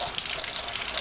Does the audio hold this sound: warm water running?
yes